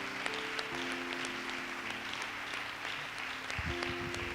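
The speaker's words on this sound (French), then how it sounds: "Tu sais, acclamons pour Élisée." A church congregation applauds together during a sermon, a steady wash of clapping heard throughout over a faint sustained organ or keyboard tone.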